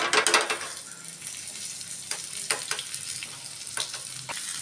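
Mustard seeds, cumin and garlic-chili paste sizzle in hot oil, giving a steady fry hiss with a loud burst at the start and scattered crackles and pops throughout, with no talking.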